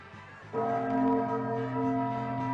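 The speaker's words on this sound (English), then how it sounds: "And now it's chime time." A bell chime strikes once with a sharp onset and then rings on with a sustained, humming tone that decays slowly over a couple of seconds, clear and moderately loud with no talk.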